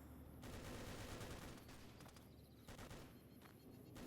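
Gunfire in the video game Fallout, a continuous distant barrage of overlapping shots and rattling bursts with no pauses, fairly quiet throughout.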